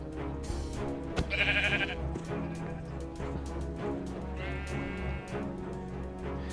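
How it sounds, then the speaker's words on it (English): Synthetic sheep bleats from Minecraft sound a couple of times over looping background music and steady game sounds, moderately loud. "I'm just trying to let the sheep out here if he decides to come out."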